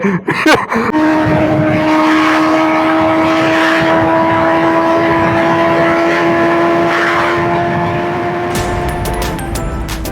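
An MV Agusta Brutale RR naked motorcycle runs at high speed, its engine holding a steady, loud, sustained drone close to the rider, with wind roar throughout and a few sharp bursts at the start and end.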